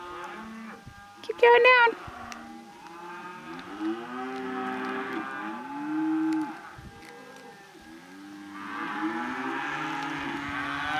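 Several cows, just back from native pasture and unsettled, moo in long, low calls one after another, close by, with a person speaking briefly over them.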